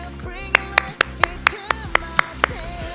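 One person clapping in a radio show studio: about nine crisp, evenly spaced claps ring out close and clear over soft background music.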